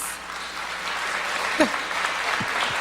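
A studio audience at the Loft Story 6 television gala applauds, a steady, fairly soft wash of crowd clapping with a brief voice breaking through in the middle.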